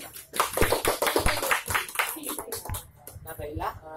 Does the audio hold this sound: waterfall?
no